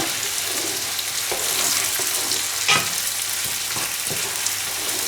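Sauce for pulpo a lo sochantre cooking in a pan, a steady close sizzle and bubbling with a few soft stirring scrapes and light clicks of the utensil throughout.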